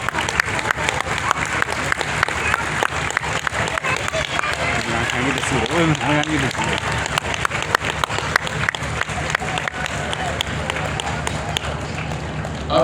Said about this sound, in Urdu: اب یہ تالیوں کی جو آواز اور گونج ہے